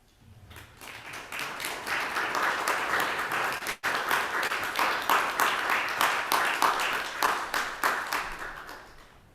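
A congregation applauds during a church service, dense and steady clapping that fills the room for about nine seconds, with a brief break partway through before the clapping resumes.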